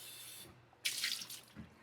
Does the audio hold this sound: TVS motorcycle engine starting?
no